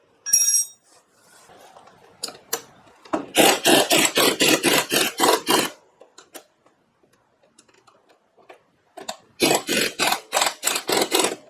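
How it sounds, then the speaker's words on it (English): A wrench ratchets in two quick bursts of rapid clicking while steering work goes on under a Cub Cadet mower, with sparse metallic clinks and taps between the bursts. "Let's get the right wrench."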